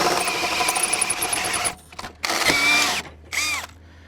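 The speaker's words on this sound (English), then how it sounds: "What we're gonna end up doing is drilling a hole right here" A Greenlee carbide hole cutter drilling through a thick steel plate for conduit at a gate operator installation, a loud close whining drill run that cuts off, then two short bursts with rising squeal.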